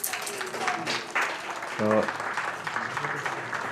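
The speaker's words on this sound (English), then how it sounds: "round of applause for Stephen O'Reilly" Applause rises from the crowd at a hurling match, a moderate patter of clapping from a distance while a commentator talks over it.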